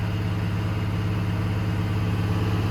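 A Duramax diesel truck engine idles steadily at close range on a cool day, a constant low rumbling drone with no change in pitch or level.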